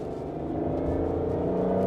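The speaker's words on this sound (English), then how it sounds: "It automatically goes to second gear." A 2006 Aston Martin DB9 engine drones steadily in second gear after a paddle downshift, a loud, continuous close-up hum with layered harmonics that swells slightly toward the end, heard from inside the car without any talk.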